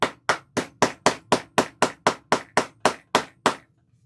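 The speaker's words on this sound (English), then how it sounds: "It only needs a couple of good whacks" A mallet strikes a push-together turnlock through a protective layer of fabric, delivering twelve sharp, evenly spaced whacks close up, each ringing briefly before the next, then stopping.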